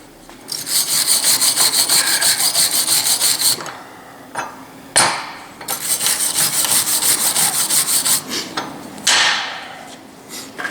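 A wire brush scrubs a laser-welded quarter-inch steel joint in quick rhythmic rasping strokes, loud and close, broken by short pauses and a knock.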